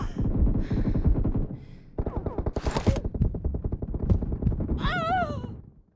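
Rapid bursts of automatic gunfire and single shots crack through a PUBG battle on mobile, dense and close, with a sharp whooshing effect near the end.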